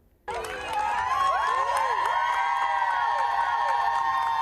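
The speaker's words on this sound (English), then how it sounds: "Watch as medical staff cheer on 7th grader Sophia Forkas" Hospital medical staff cheer and applaud a seventh-grade girl being discharged, a sustained crowd of whoops and shouts that starts suddenly and stays loud and dense throughout.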